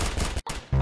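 Lever shotgun blasts in the Roblox game Arsenal, a dense burst of loud gunfire with a brief gap, then a heavy boom near the end.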